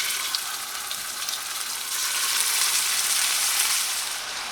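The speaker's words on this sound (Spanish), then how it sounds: "En un sartén agregamos el aceite y cuando comience a calentarse vamos a agregar nuestra carne." Beef steaks sear in hot oil in a frying pan, a dense, steady hiss and crackle that swells louder partway through and carries on without any voice.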